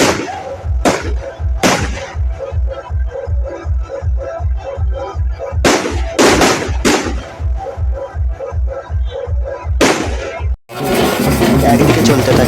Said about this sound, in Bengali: একদিকে চলতে থাকে আতশবাজি পোড়ানোর প্রতিযোগিতা